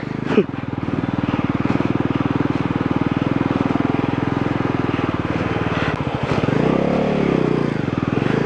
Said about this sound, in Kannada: ಲಾಂಗ್ ಟೈಮ್ ನಮ್ಮ ಗಾಡಿಗೆ ಆಫ್ ರೋಡಿಂಗ್ ಮಾಡ್ತಾ ಮಾಡ್ತಾಯಿದ್ದೀನಿ ನೋಡೋಣ ಏ ಹತ್ತುತ್ತೆ ಗಾಡಿ